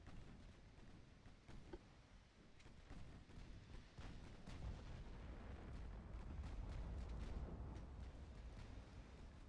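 Naval guns firing high explosive shells in the Ultimate Admiral Dreadnoughts warship game, a dense rumble of repeated distant booms and thuds rolling continuously at low volume.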